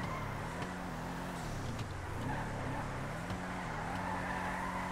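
A Benefactor Glendale Custom car in GTA Online holds a steady droning engine note throughout, its pitch rising and dipping with throttle as it drifts, with faint tire scrub underneath and no talking.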